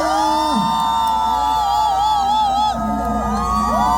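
A large outdoor concert crowd at a Gwangju kimchi festival cheers and whoops for a singer's fan club, with sustained shouting and high voices throughout and clapping buried in the roar.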